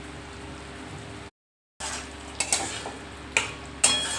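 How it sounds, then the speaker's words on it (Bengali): Potatoes stir-fried with spices in a pan, heard as quiet, low scraping and stirring with a few sharp clinks of utensil on metal after a brief gap of silence. "কমিয়ে কমিয়ে মশলাটার সাথে আলুটা কষাচ্ছি যাতে আলুটা সিদ্ধ হয়ে যায়।"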